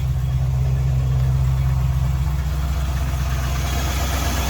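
A 1993 Land Rover Defender 110 with a 4.2L V8 engine idles close by, giving a steady, even low rumble that holds throughout with no voices.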